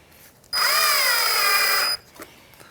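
A cordless power drill drives a Phillips screw into a Honda Element front bumper, one close, loud whirring burst of about a second and a half that winds up and stops sharply, with faint clicks afterward.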